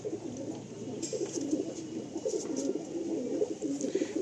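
A male Ablak pigeon coos in repeated low, throaty phrases, close and fairly clear, with soft rustling in the background.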